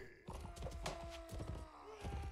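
Horse hooves pounding in the Mount and Blade game, a busy run of quick thuds with a whinny-like tone riding over the battle noise throughout.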